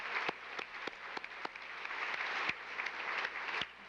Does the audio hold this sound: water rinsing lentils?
no